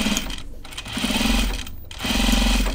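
A domestic sewing machine stitches a shirt cuff on a casual button-up shirt. It runs in two steady bursts of rapid, even whirring and stitching, with a short pause between them and brief stops at the start and middle. The sound is close.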